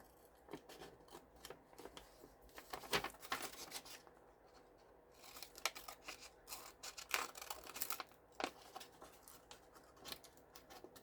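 Quiet, repeated snips of small embroidery scissors cutting, irregular crisp clicks spread across the stretch with soft handling noise between.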